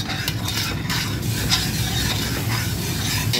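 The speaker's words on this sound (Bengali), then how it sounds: "নাড়িয়ে নিচ্ছি।" A spoon stirs thick bottle gourd halwa with cardamom powder in a pan on a switched-off stove, making repeated scraping and soft wet rubbing sounds against a low, continuous faint sizzle, with no voices.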